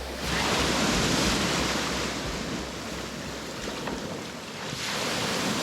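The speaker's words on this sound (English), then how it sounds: "Only problem is that there's a lot of waves." Steady, loud roar of ocean surf at a beach on Buton Island, Sulawesi, Indonesia, with wind buffeting the microphone, waves washing continuously with slight swells in intensity throughout.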